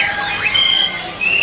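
Several caged birds at a market selling imported songbirds chirp and squawk at once, with bright overlapping whistles and calls close by against a busy background.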